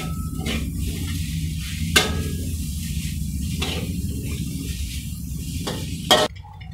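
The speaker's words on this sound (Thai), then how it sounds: "แล้วเราจะใส่หอมใหญ่นะครับ ผัดให้เข้ากันนะครับ" Onion stir-frying in a hot pan for Thai train-style fried rice, a steady sizzle with scraping spatula strokes and a few sharp clinks against the pan, close and continuous without talk.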